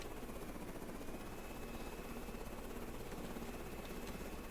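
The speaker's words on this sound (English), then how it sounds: "We're going to get this helicopter going." A helicopter spins up in a video game, probably on a carrier, with a steady, loud rotor and engine drone that holds for the whole stretch, and no voices.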